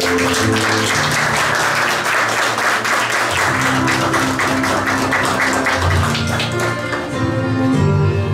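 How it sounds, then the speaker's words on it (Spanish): Applause at a quinceañera party, broad steady clapping that runs throughout, loud and mixed with music whose sustained tones carry underneath. "Un aplauso grande."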